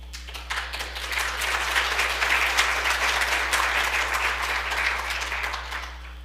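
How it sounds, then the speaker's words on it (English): An audience at a WVGS meeting claps for a past president receiving her pin and certificate; the steady, even applause holds for about six seconds, moderately loud, with no voices. "Please give her a round of applause."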